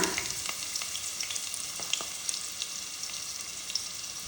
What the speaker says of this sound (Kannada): ಇದಕ್ಕೆ ನಾವು ಹುರಿಯೋದಕ್ಕೆ ಹೆಚ್ಚಿಟ್ಕೊಂಡಿರುವಂತಹ ನೀರುಳ್ಳಿಯನ್ನು ಹಾಕ್ಕೊಳ್ಳೋಣ